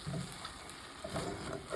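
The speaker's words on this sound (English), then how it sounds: "Put it in the pan, and I'm going to let it cook" Lamb chop marinade juices sizzling in a hot pan, a faint, steady frying crackle with small pops, heard alone at low level.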